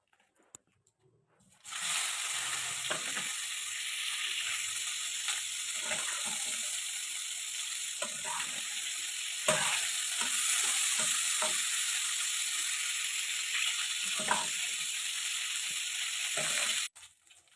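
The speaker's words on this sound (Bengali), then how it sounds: "ওর মধ্যে হলুদ, নুন দিয়ে ফুলকপিগুলো হালকা করে ভেজে নাও।" Cauliflower florets frying in oil in a wok with turmeric and salt for a cauliflower roast: a loud, steady hiss and crackle starting abruptly and continuing evenly for about fifteen seconds, with occasional scraping stirs, then cutting off.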